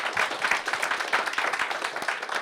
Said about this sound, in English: let's give another big round of applause to our two amazing panelists